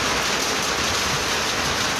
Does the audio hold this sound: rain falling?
yes